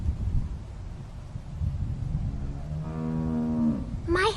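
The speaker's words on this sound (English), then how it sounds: "How do you like that cow, Clem?" A cow moos in The Walking Dead video game, one drawn-out low bellow rising near the end over a windy outdoor background, with no talk.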